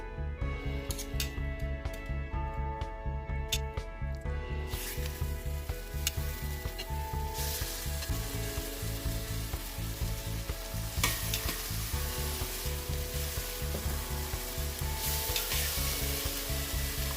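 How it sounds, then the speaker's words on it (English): Beef short ribs searing in hot oil in a pan give a steady sizzle, with a continuous low hum of music or a tonal bed running underneath throughout. "Then we need to sear our"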